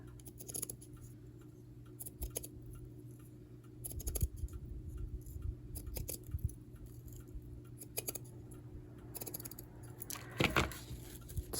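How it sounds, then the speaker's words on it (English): Scissors snip through a thrifted item in scattered, irregular clicks and scrapes, close and fairly quiet, with a louder cluster of cuts near the end. "I'm going to cut this in half."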